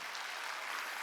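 A church congregation at a Wednesday service applauds, a steady wash of clapping that holds at an even level for about a second.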